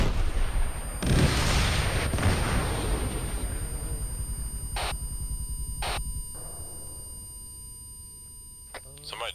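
Satchel charges detonate during SEAL scuba assault training, opening with a loud booming blast and rumbling roar that slowly fades, followed by a few sharp distant cracks and a steady electronic tone in the background.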